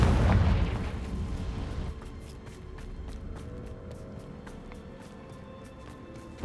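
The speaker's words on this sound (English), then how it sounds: "Confringo!" A loud fiery explosion from the Confringo spell in Hogwarts Legacy bursts at the start and decays into a rumbling tail, followed by quieter ambient tones and faint ticking.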